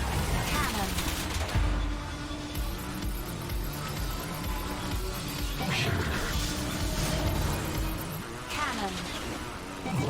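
Heavy weapon fire in a futuristic racing game, loud booming cannon shots and crashes over a constant roaring engine drone, with a person talking over the action.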